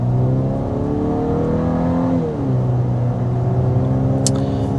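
A 2026 Volkswagen Atlas with its sole four-cylinder engine accelerates toward highway speed, steady engine drone from inside the cabin climbing in pitch, easing briefly around a shift, then holding a smooth, loud hum over constant road noise.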